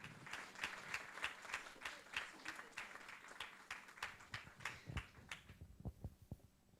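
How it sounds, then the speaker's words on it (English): Audience applause after an award presentation at a healthcare AI event, a moderately quiet patter of claps that thins into a few scattered, louder individual claps toward the end. "And we can give them a big round of applause."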